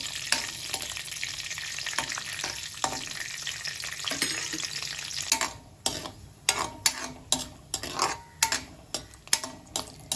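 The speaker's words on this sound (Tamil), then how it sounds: "மீடியம் ஃப்ளேமில் வச்சு நல்லா முந்திரி பருப்பை வறுத்துக்கலாம்" Cashew nuts roasting in a pan on a medium flame for mango kesari, a steady sizzle at first, then repeated sharp scraping stirs ticking out in an uneven rhythm.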